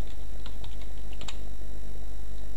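Someone types a password on a computer keyboard: a quick run of clicky keystrokes over a steady low hum, close and clear.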